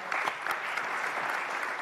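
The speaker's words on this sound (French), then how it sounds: "ce que je vous propose, c'est qu'on les applaudisse tous chaudement" An audience at an African urban mobility conference applauds its speakers, a dense steady wash of many hands clapping together, fairly distant and even in level throughout, with no talking over it.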